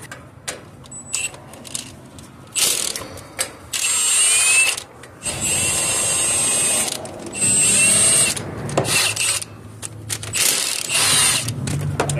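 Power ratchet spinning off five size 14 lug nuts from a trailer wheel during an electric brake job, in repeated bursts of whirring and clicking with short pauses between, fairly loud and close, with no talking.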